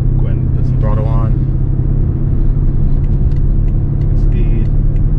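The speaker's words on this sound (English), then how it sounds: "wait till I get straight away and I'll start accelerating." A BMW X5 twin-turbo V8 accelerates steadily from about 45 mph while towing, a loud, constant low engine drone and road rumble filling the whole stretch, with someone talking briefly over it.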